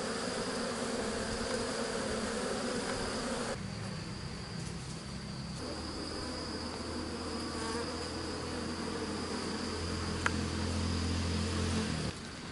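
Honeybees buzz steadily around hives on a bee farm in Binh Phuoc, Vietnam, a dense continuous drone close by with no talking.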